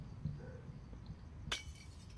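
Window glass breaking in Hello Neighbor: one sharp crash of shattering glass, short and bright, after a quiet stretch.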